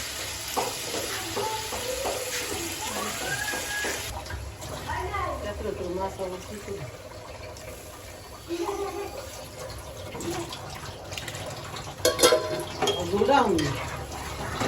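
Fish cooks in a pan with steady sizzling and occasional stirring scrapes throughout, while a person talks over the frying.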